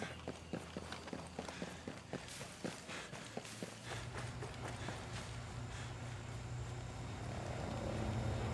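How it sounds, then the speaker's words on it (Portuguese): Helicopter in a solo sniper video game mission, a low steady rotor drone building louder toward the end, preceded by a run of rapid footstep-like taps with game noise around it. "Ah, o helicóptero."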